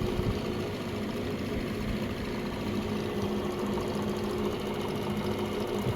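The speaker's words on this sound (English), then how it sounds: "You can see it slows down as I bring the Zero Max down to 0. there's full speed again." A vintage Van Norman 204 brake lathe runs at full speed, giving a steady, close mechanical hum with a rapid rhythmic whir and no voices.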